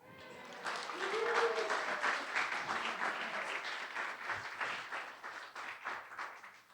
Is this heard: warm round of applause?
yes